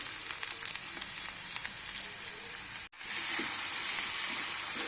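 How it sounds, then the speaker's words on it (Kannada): Onion and cabbage sizzle steadily in hot oil in a pan, a constant close frying hiss with a brief break before it returns a little louder. "ಈಗ ಎಣ್ಣೆನಲ್ಲಿ ಎರಡು ಚಲೋ ಮಿಕ್ಸ್ ಮಾಡಿ ಫ್ರೈ ಮಾಡ್ಕೋಬೇಕು."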